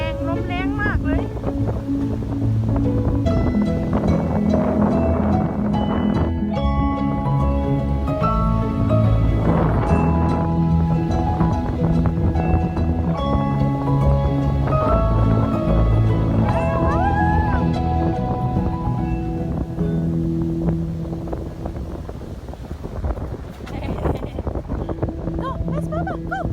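Strong wind sweeps a seaside beach after rain, a continuous roaring buffet against the microphone that runs the whole time while voices and other tonal sounds carry on nearby.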